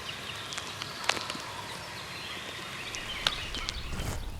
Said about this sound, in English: There's 2 different birds at least gobbling over there